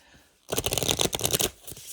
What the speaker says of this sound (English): I try and shuffle these both ways, side to side as well as front to back